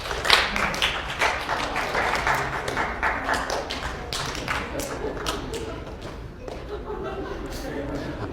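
Audience members in a psychology lecture hall clap as they spot the difference between two flickering pictures; scattered clapping builds into a spread of applause, then thins out with sporadic claps and room murmur.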